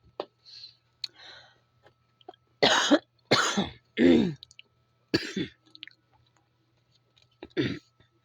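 A person recovering from illness coughs and clears their throat in several close bursts, loud and separated by short pauses in an otherwise quiet room.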